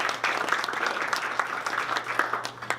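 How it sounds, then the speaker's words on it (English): At a Wednesday morning networking breakfast, the room of attendees claps steadily, a close, even wash of many hands with sharp individual claps standing out, no voices over it. "give yourselves a round of applause just for even being here today"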